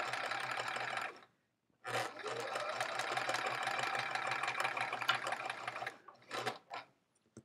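Sewing machine stitching checkerboard quilt border segments, running in steady bursts of close, fast mechanical rattling with a short pause and brief stops near the end.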